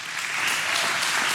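An audience claps in a hall, a brief burst of dense, even applause at moderate loudness with no voices.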